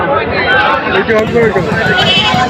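Goats, including a mother goat with her kid, bleat amid busy crowd chatter at Ambari livestock market, the animal cries rising briefly over a continuous hubbub of nearby voices.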